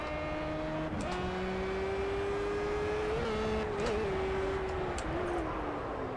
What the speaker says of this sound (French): j'ai l'impression d'entendre moins le bruit du moteur